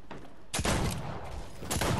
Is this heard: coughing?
no